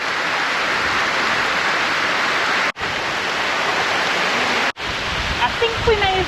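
Heavy rain pours steadily on Koh Yao Noi, a Thai island, as a dense, even hiss close to the mic, cut by two brief dropouts, with faint voices rising near the end.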